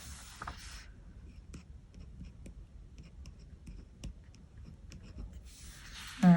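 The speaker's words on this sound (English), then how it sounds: "let's go ahead and write this number down here" A pen writes a number on paper at close range, giving quiet scratchy strokes and small taps spread across several seconds. Faint rustling sits at the start and end.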